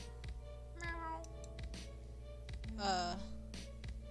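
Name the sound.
kitten meowing, from a video game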